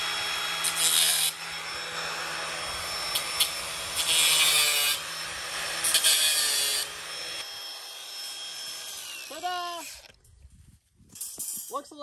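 Material being cut for a DIY hay feeder for goats, horses and cows, with steady rasping strokes in several long bursts, close and fairly loud, then quieter handling noises at the end.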